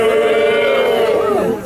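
Crowd at a union rally during a strike over replacement workers: a loud, steady wash of many voices cheering and shouting together, close and sustained, easing slightly at the end.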